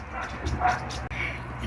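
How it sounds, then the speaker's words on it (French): Outdoors, a dog barks at children in a few quick, yappy bursts at moderate distance, moderately quiet, with faint background voices around. "C'est un chien qui gueule après des enfants."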